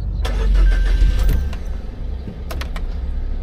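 A minivan engine cranks and catches close by, with a brief surge of rumbling that settles into a steady idle, heard while stranded in Cebu.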